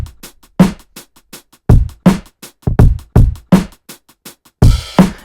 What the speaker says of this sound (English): it makes the drum break a little more beautiful, but a little more aggressive as well.